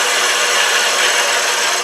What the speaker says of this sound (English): Let's first take a peeling cut